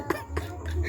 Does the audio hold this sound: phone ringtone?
no